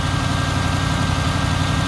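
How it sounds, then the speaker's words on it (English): Steady idle of a 6-liter Pontiac GTO engine fitted in a 1956 Chevrolet Suburban, a continuous low rumbling drone with even pulsing, close and constant throughout. "I believe this is a 6-liter Pontiac GTO motor."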